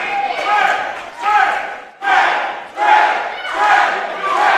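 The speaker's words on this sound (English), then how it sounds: "The crowd here in River Oaks fired up for Trae." Wrestling crowd in River Oaks roaring at a live pro wrestling show, loud surging waves of cheering and shouting that swell and dip in several bursts, close and filling the room.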